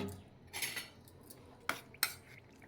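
A spoon stirs besan with water in a bowl, mixing it smooth into a batter: soft scraping, then a few sharp clinks of metal against the bowl, faint and close.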